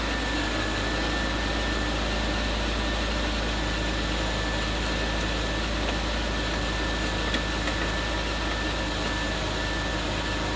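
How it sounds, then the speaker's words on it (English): BMW E46 with over 240,000 miles idles just after a cold start, a steady, even engine drone with a constant low hum running throughout, no voices. "Cold start sounds pretty good."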